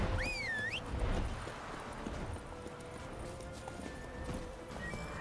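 Roach the horse gallops in The Witcher 3, a steady rhythmic clip-clop of hooves close by, with a brief whinny at the start and quiet game ambience beneath.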